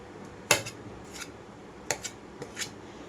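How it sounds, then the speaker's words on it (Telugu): Peeled boiled potatoes cut into pieces for an aloo rajma curry, giving a few sharp knife taps against a board or plate, spaced irregularly, close and fairly quiet with no talk. "తొక్క తీసేసుకొని ఇలా ఇంత ముక్కలుగా అయితే కట్ చేసుకుంటున్నాను"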